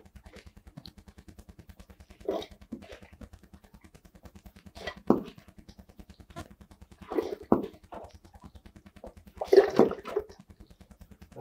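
A foot pump is worked slowly several times, pushing water through a bovine injection simulator. Several separate whooshing, gurgling strokes rise over a steady low mechanical hum.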